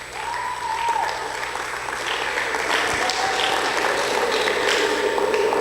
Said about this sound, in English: I want you to give yourself a round of applause, please.